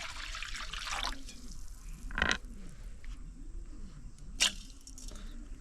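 Water is poured into a cut banana stem with salt while making a village-style sambar without fire, giving a soft continuous trickle and splash with a couple of brief louder squishy sloshes, fairly close and quiet.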